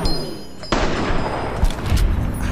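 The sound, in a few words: gunfire in video game Fallout New Vegas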